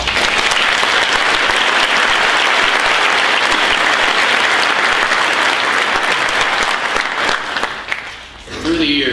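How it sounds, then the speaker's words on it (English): Graduation audience applauding in a hall, dense sustained clapping from a large crowd that holds steady before thinning out near the end. "we should all be proud of you, and give a round of applause"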